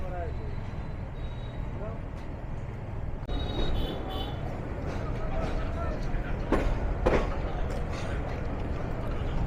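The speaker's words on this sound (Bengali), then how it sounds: "যাত্রাবিরতি সম্পূর্ণ করে ছেড়ে যাচ্ছি গুচিহাটা স্টেশন" The Egarosindhur Provati Express pulls out of Guchihata station: a steady, dense rumble of rolling wheels and carriage noise fills the whole stretch, growing slightly heavier partway through.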